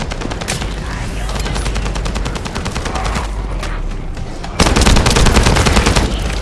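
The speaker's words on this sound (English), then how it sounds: "That stopped the gunfire." Rapid automatic gunfire from the video game The First Descendant rattles loudly and continuously, with dense bursts that swell sharply louder for the last couple of seconds.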